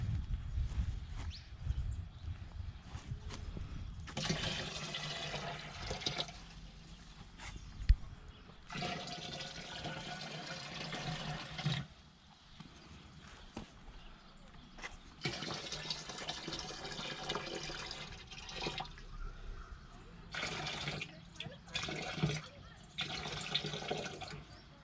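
Water is poured back into the tank of a knapsack sprayer, a steady splashing, gurgling stream that swells and eases in several long bursts over a faint background.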